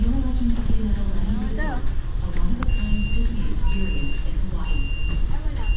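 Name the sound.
electronic beeping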